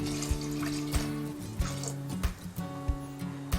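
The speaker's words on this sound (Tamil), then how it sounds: "இப்போ அரிசியும் காய்கறியும் 1/4 குக்கர் இருந்துச்சுன்னா 1/2 குக்கர் தண்ணி ஊற்றிக்கலாம்" Water is poured into a pressure cooker holding rice and vegetables, giving close splashing and trickling with a few sharp drips and sloshes, fairly quiet, under a faint steady hum.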